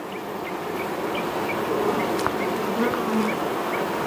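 Steady, dense buzzing of many honey bees fills the clip at a close, even level, with individual insects droning past now and then.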